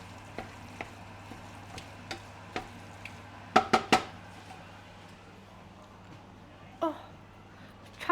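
Minced meat for shepherd's pie is broken up in a frying pan. A faint background sizzle runs under sporadic spatula taps and scrapes, with a cluster of louder clacks in the middle and a couple more near the end.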